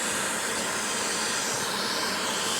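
A shop vacuum runs steadily outdoors during woodworking on a board for a wreath build, a loud, constant broadband hiss and whoosh with no breaks and no voices.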